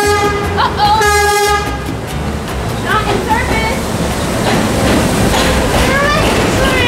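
An MTA subway train pulls into the station and sounds its horn in a few loud, sustained toots, followed by rumbling wheels and screeching brakes as the cars roll in close by, with a voice speaking over it.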